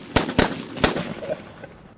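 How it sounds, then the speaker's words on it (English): Gunshots, three sharp loud cracks in quick uneven succession followed by fainter trailing pops and a brief background voice. "Gunshots."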